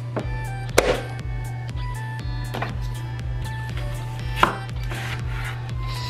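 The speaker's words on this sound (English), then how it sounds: "now I'm gonna cut up the onion" Knife chopping an onion on a cutting board, a steady run of close, crisp chops with a few heavier knocks, over a constant low kitchen hum.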